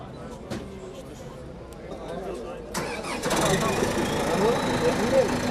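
A construction machine's engine catches and roars up as the throttle is pressed at a municipal handover ceremony, first quiet background chatter, then a loud rising engine rumble that continues, with people talking throughout.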